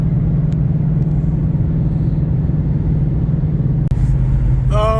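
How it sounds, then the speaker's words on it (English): Steady road rumble and tire noise from inside a moving Ford Mustang in heavy traffic, a low constant drone with a brief knock near the end and faint passing vehicle sounds. "Oh, the traffic just doesn't end."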